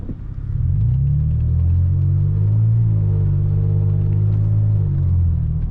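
A deep, steady exhaust rumble from a second-generation Toyota Tacoma V6 truck, with a low droning tone, holding loud and even throughout with slight swells, and no talking.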